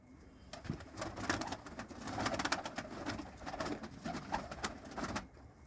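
Domestic pigeons, a breeder's white smoky-grey birds, coo steadily and close by in a loft. The soft, throaty calls overlap continuously with no talk.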